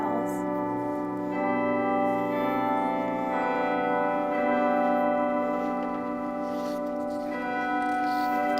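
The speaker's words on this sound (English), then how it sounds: "I'm just gonna wait for the bells." Church bells ring continuously at a retreat, their sustained overlapping tones humming with a steady, resonant shimmer at moderate distance, with faint background voices.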